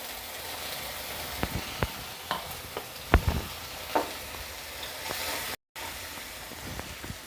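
Tomato pieces drop into a hot pan for a Telugu perugu pachadi, giving a soft steady sizzle broken by a few sharp crackles and pops, with one brief dropout partway through.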